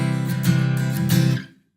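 A clean strummed acoustic guitar chord ringing out evenly for over a second, then muted to silence, played alone and close.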